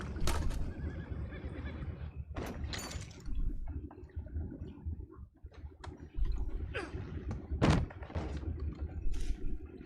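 Horses in the video game Red Dead Redemption 2 whinny and snort in several sharp bursts over clip-clopping hooves and low thuds, close and fairly loud, with no talking.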